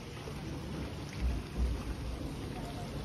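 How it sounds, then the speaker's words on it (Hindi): Light rain still falling after a heavy downpour, a steady soft hiss of drops with a couple of low rumbling thuds in the middle, fairly close and unbroken. "अभी भी बूंदे पड़ रही हैं हल्की हल्की"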